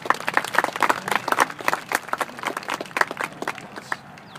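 An audience at a WW2 gun show breaks into brief applause, a dense flurry of hand claps lasting a few seconds and tapering off near the end.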